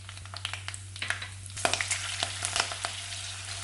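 Fenugreek and fennel seeds crackle and pop in hot oil, a steady sizzle dotted with sharp bursts, close up with no voices.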